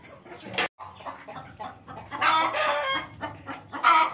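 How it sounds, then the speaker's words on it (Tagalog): A hen cackles loudly after laying an egg, in repeated, choppy bursts close by, with other chicken clucks mixed in. "kung matatanaw nyo, pumuputak siya. Ibig sabihin, nag-itlog."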